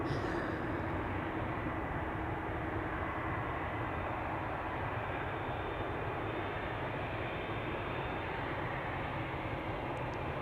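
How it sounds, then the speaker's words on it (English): A German Airways Embraer 190 at Amsterdam Schiphol makes a low, steady jet roar in the background, faint and continuous for the whole stretch, with no voices. "German Airways in the background in the meantime. Embraer 190."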